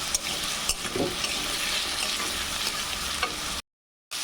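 Potatoes frying in a pan with salt and turmeric powder for ghugni, a steady close sizzle with a few light stirring clicks, no voices, ending in a brief silent gap.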